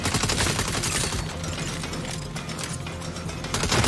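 Sustained turret gunfire in the Saints Row video game, a dense rapid burst of shots running continuously and loudly throughout, with a busy game soundscape behind it.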